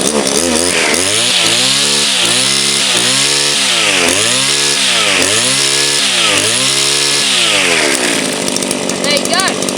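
A petrol strimmer engine, already running near the mic, rises and falls through a series of loud revving surges with harmonics sweeping up and down, then settles back toward a steady idle near the end.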